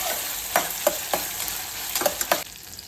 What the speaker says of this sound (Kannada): ಈ ರೀತಿ ನೋಡಿ ಚೆನ್ನಾಗಿ ಎಣ್ಣೆಯಲ್ಲಿ ಫ್ರೈ ಮಾಡಬೇಕು.